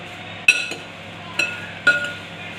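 Popcorn is tossed with chaat masala in a bowl, and a spoon or utensil strikes the bowl with three bright clinks spaced apart over a quiet background.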